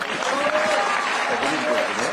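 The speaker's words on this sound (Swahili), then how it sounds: "Makofi." A room full of people claps continuously at a public meeting in Kenya for people living with disabilities, a dense, steady patter of applause with voices mixed faintly underneath.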